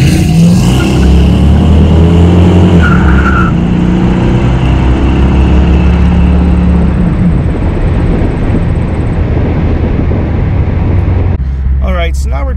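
A tuned LT1 Buick Roadmaster pulls hard from about 30 mph, its engine roaring loud and steady with rising intensity, wind and road noise mixed in, and a voice speaking briefly near the end.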